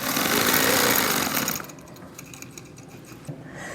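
A Gammill Vision 2.0 longarm quilting machine stitching feathers runs with a dense, loud mechanical whir for about a second and a half, then drops to a quieter, irregular hum.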